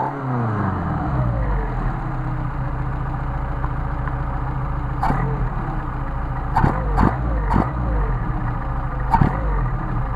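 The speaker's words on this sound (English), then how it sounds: "And then you just rev it up." A Mercedes 190SL engine with Solex carburetors idles smoothly, then is blipped into several sharp, quick revs that snap up and fall back, with a short pause between throttle stabs.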